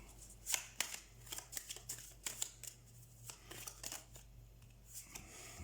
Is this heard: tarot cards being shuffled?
yes